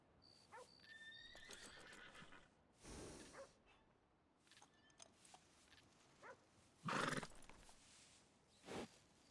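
A thoroughbred horse in the WildRP video game gives a few sharp, brief whinnies and snorts amid quiet hoof sounds, faint and spaced out against a near-silent background.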